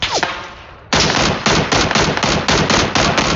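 Enemy gunfire in a video game: a loud, close burst of rapid automatic shots firing in quick repeated volleys, following a single earlier shot, with no talking.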